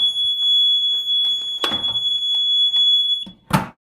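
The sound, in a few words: alarm sounding when AED cabinet door is opened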